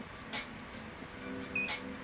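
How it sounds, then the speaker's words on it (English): A TESmart 8-port HDMI switch gives one short, faint electronic beep as it changes ports, heard alone against a quiet background. "each time it circulate from port to port, you're gonna hear a buzzer, a beep"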